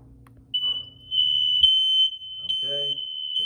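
A Kidde smoke alarm shrills in a rear entry hall, one steady, piercing electronic tone held without a break as someone speaks over it.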